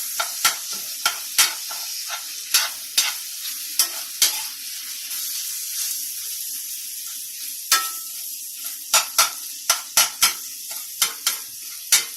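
Ground beef sizzles steadily in a pan with a little added water while a utensil scrapes and stirs in sharp, repeated strokes, clustered in quick bursts near the start and end.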